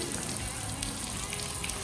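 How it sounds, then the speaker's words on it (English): Water from a leaking fire system nozzle patters and drips steadily, a continuous close wet hiss with faint tapping drops. "The bottom one's just just dripping."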